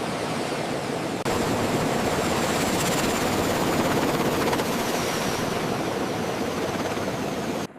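A Japanese MV-22 tiltrotor aircraft roars continuously nearby, a dense, steady wash of rotor and engine noise with no pauses.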